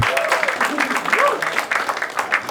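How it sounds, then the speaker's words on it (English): Studio audience applauding the panelists on a comedy game show, a dense steady wash of clapping lasting throughout, with a host's voice speaking over it. "Huge round of applause for all our panelists."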